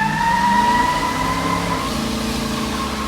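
A 1964 Chevrolet Impala SS launching from a dead stop on a wet road, its engine roaring loudly and steadily as the wheels spin with a rising whine, no voices over it.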